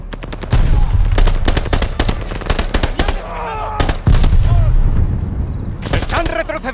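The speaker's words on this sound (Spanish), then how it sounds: "¡Disparad todos al camión! ¡En el camión, disparad!" Gunfire aimed at a truck in the Call of Duty Vanguard campaign, loud rapid machine-gun bursts and rifle shots in dense clusters with brief gaps, shouting voices mixed in.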